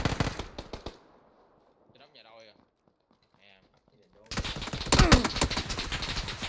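Rapid gunfire in a shooter video game rattles out in dense, loud volleys at the start and again at the end, with a quiet gap in between where someone talks.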